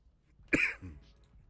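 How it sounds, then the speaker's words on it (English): One short, sharp cough sounds close by, followed by a softer throaty rasp, then quiet. "As I cough."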